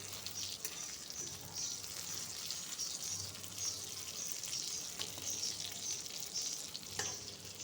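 Brinjal slices fry in a pan with a steady, soft crackling sizzle, unbroken throughout and heard alone with no voices.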